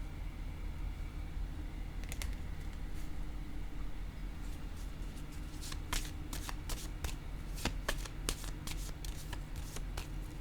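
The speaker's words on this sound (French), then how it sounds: "Je vais déposer une carte encore ici" Tarot cards handled and laid down on a table, with soft riffling and a run of crisp clicks and snaps, close and moderately quiet over a steady low background hum.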